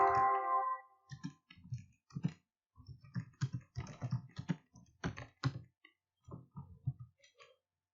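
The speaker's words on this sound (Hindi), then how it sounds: "जैसे कि मैं यहाँ से टाइप करता हूँ" Typing on a computer keyboard while working in InPage software: a close series of irregular key clicks and taps in short bursts, with brief pauses between them and no speech.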